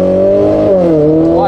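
A Renault Clio RS Trophy Stage 1 with 260 hp pulls hard from inside the cabin, its engine droning loud and steady with pitch climbing toward the end.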